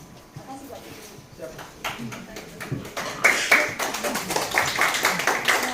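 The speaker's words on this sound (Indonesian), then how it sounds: "berikan aplaus sekali lagi Bapak Ibu terhadap materi dan moderator kita" An audience at a curriculum workshop at SMAN 10 Tangerang school applauds the speaker and moderator, sparse claps building into sustained, fairly close clapping that continues to the end.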